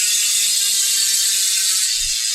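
A Hope freehub on a hand-built bicycle wheel ratchets as the wheel spins, a fast, continuous, bright clicking buzz heard up close and loud, dropping out briefly near the end.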